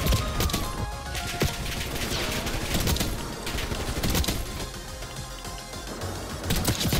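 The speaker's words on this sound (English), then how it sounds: "I just can't get over how satisfying the sniping is." Sniper rifle fire and chaotic gunfire in a Black Ops 6 Face Off match, dense repeated sharp shots and bursts crackling through the whole stretch, loud and close with no talk.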